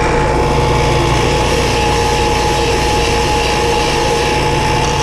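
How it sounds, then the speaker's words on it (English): A disc sander running on wood: a loud, steady, continuous whirring roar with a constant hum, unbroken throughout. "we might be better off trying to cut it than trying to use the disc sander"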